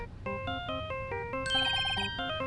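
A phone ringtone melody plays after redial in the Phoenix Wright: Ace Attorney video game, a bright electronic tune of steady, stepping notes with a brief higher, busier burst midway, heard alone without talk.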